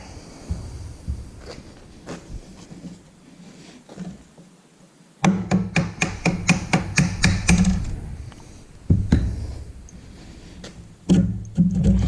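A hand tap cuts threads in steel parts for a DIY catfishing rod holder build, heard as rapid bursts of close, sharp metallic clicks and taps with short pauses between runs.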